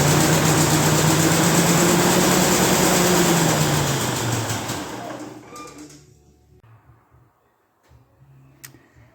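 A 1949 Ferguson TE20 tractor engine runs loud and steady with a low droning note, then winds down and shuts off about halfway, leaving quiet ticking and faint clicks as it stops.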